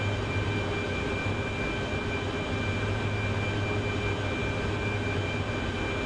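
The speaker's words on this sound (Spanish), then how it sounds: "Mira, helicópteros por ahí volando" Helicopters flying in the DCS flight simulator video game, a steady droning engine and rotor roar that holds constant throughout with no talk.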